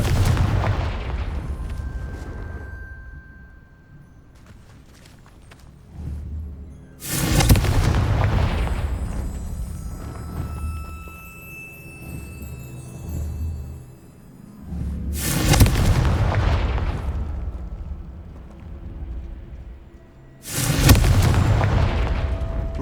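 Confringo blasting spells go off in the wizarding game Hogwarts Legacy as four loud, booming explosions spaced several seconds apart, each with a sharp burst and a long rumbling decay, between quieter stretches of ambient game sound.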